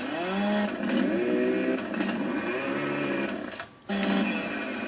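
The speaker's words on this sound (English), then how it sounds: "Now here is my good chainsaw." A small two-stroke chainsaw engine in the video game Farming Simulator 2015 buzzes and revs in pulses, rising and falling in pitch, cutting out briefly before roaring back.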